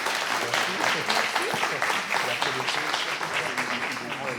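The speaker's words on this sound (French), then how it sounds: "vous pouvez les applaudir" Applause from an audience at a French conference on cultural heritage, with dense continuous clapping that holds steady, lightly mixed with voices in the room.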